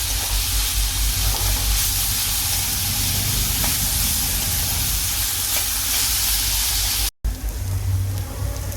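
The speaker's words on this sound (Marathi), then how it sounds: "आता आपण ही वाटलेली मिरची घालूया ही पण चांगली परतून घेणार आहे" Ground green chili paste and onion sauté in oil in a pan for a Maharashtrian potato bhaji, giving a steady close sizzle and hiss with stirring scrapes, cutting out briefly near the end before resuming.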